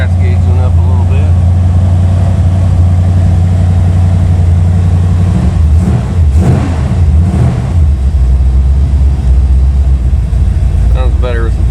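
A 1980 Chevrolet Malibu with a big-block engine, a barn find, runs after sitting for years: a loud, steady low rumble close by, with a mid-clip swell and talk under it.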